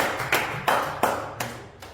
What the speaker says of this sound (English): let me give applause for Jasim